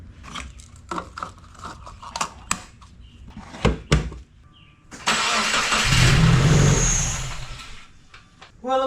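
2016 Subaru WRX engine running with the mass airflow sensor disconnected, idling roughly with uneven pops and clicks before a sustained louder rev lasting several seconds, then settling again.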